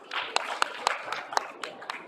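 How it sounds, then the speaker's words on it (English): Scattered applause from an audience at a trading fair seminar, a handful of sharp, evenly spaced claps rather than a full ovation, fairly close. "Give him a round of applause."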